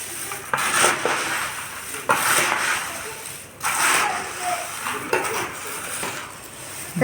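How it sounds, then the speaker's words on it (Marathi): Spiced makhana poha chivda, a crunchy mix of flattened rice and fox nuts with sugar powder and salt, tossed by hand in a bowl, giving repeated dry rustling scrapes and clinks close by in uneven bursts. "चला याला मिक्स करून घेऊया."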